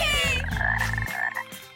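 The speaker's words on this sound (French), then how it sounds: "Et je vous offre ces grenouilles comme animaux de compagnie." Frogs croak loudly in a quick, dense run of throaty calls that fill the short stretch at close range, with no talking.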